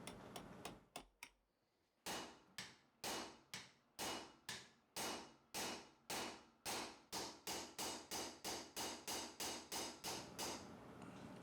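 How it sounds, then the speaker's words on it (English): Sharp metallic hammer taps peening pins to lock together the metal parts of a hand-made adjustable-mouth miter plane, a few quick strikes, a pause, then a long steady run of rhythmic blows, close by. "So all that hammering will actually displace the metal and lock it together"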